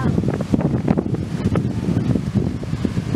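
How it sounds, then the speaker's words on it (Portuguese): Wind picking up near the sea, a steady low roar buffeting the microphone throughout with no pause or voice. "O vento tá aumentando aqui, porque tá chegando no mar."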